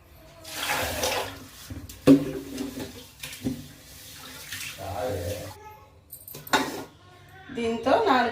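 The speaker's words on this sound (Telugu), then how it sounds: "ఇందులోకి నీళ్ళు పోసుకొని 2 సార్లు శుభ్రంగా కడగాలి బియ్యం." Rice being washed in water in a vessel, bursts of splashing and swishing with clinks of the pot between pauses, while a person talks over it.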